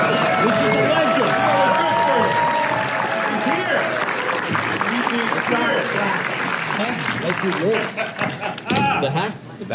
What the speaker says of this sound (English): Yeah, keep clapping.